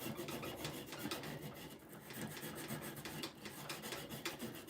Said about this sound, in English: sanding cottonwood bark, gives it a life-like effect